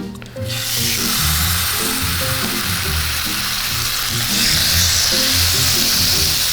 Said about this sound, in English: we're just gonna sear it for about 4 minutes aside